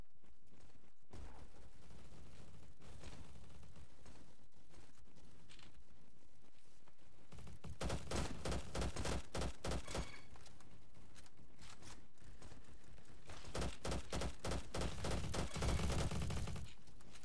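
Rapid automatic gunfire from the online shooter Bad Business, fired in sustained bursts with short pauses between them, loud and close, plus scattered single shots and mechanical clicks in the quieter opening stretch.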